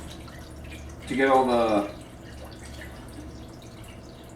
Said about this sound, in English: you're supposed to stick this in the water and squeeze it